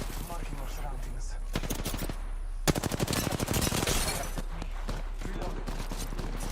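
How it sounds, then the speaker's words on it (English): Gunfire in a video game, rapid bursts of automatic shots in clustered volleys, the heaviest streak mid-clip, layered with game sounds and occasional speech. "Getting shot at."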